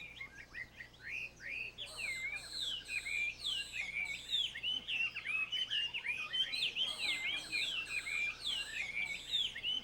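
Hwamei laughingthrush singing a long, loud, varied song of rich whistled phrases and rapid trills, close and continuous over faint background noise.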